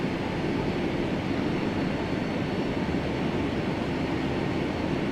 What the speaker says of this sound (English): looks like this Jet 2 is going to take off